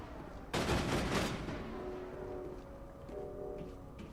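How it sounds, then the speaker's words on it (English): Assault rifle fire in the video game Mass Effect: a loud, sharp burst of rapid automatic shots for under a second, then ringing decay and faint mechanical ticks fading out. "You didn't need to shoot those extra 100 gazillion rounds out of your assault rifle to get that cleared"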